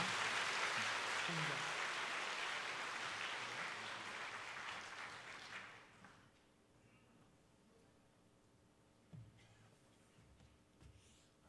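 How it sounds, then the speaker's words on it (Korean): A congregation claps during a church worship service, a full round of applause that swells at first, then thins and dies away after about six seconds, leaving a quiet room with a few faint stray sounds. "우리 함께 힘껏 격려의 박수 부탁드립니다"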